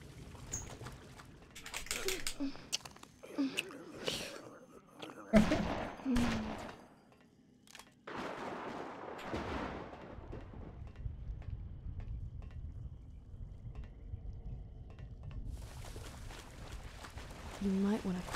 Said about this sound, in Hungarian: Az meg egy lövés.